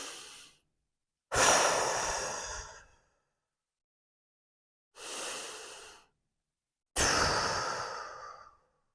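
Several deep, slow breaths during a mobility and flexibility exercise, long airy inhales and exhales separated by silent pauses, close and clear.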